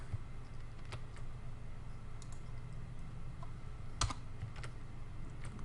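Soft, irregular typing on a computer keyboard, individual key clicks scattered over a low steady room hum, with one sharper click near the end; quiet and close, no speech.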